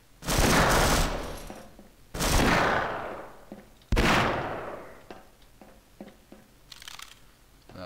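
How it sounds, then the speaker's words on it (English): Heavy gunfire bursts in the Half-Life video game, three loud, dense volleys each lasting about a second and a half, followed by scattered fainter shots and clicks, close and alone without talk. "So you're still firing at something."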